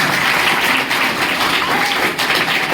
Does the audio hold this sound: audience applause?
yes